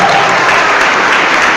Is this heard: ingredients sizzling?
no